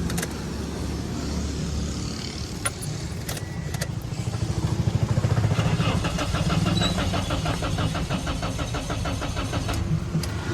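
A Toyota Hiace engine cranks and catches, settling into a steady mid-pitched idle with rhythmic chugging, close by, with faint clinks and some background noise.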